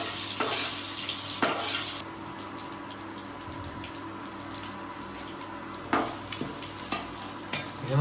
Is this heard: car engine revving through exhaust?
no